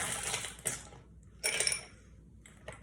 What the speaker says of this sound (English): Let's get our ice going. Some handy ice bowl and ice scooper.